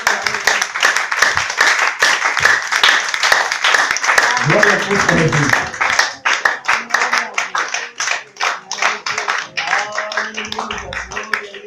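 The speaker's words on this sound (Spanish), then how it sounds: "Den un aplauso al Señor." Church congregation clapping hands in a dense, steady patter that runs throughout, with a voice speaking over it.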